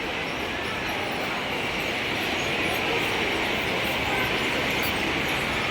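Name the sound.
train passing by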